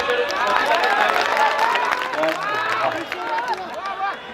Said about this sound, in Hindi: एक बार तालियों बजा के